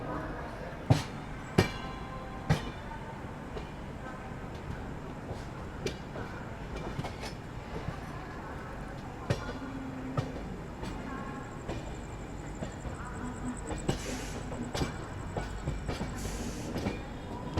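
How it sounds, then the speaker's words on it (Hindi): The Bikaner Express rolls along beside the departing Avadh Express at Kanpur Central, with steady rail rumble, rhythmic wheel clacks at joints and some high squeal near the end. No one speaks. "ये रही अवध एक्सप्रेस, वो भी निकल रही है।"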